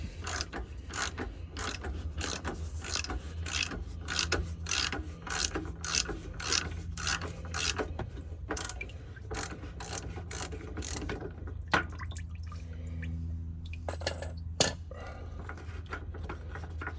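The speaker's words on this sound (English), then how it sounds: "we're going to remove these filters one at a time" A socket wrench with a 27 mm socket ratchets repeatedly while removing fuel filters on a 2015-2022 GMC Canyon / Colorado Duramax truck, rapid close clicking in bursts over a low steady hum, pausing near the end.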